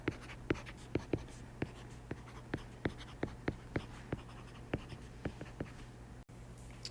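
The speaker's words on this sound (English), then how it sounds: "So this is quite messy, so I'm going to write" Pen strokes on paper while someone works through quantum chemistry notes: a quiet series of short, crisp taps and scratches, around a dozen in irregular rhythm, close and alone.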